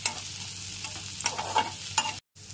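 Capsicum, carrot and onion fry in a pan over low to medium flame. A steady sizzle runs under repeated spatula scrapes and taps, then drops out briefly before the last second.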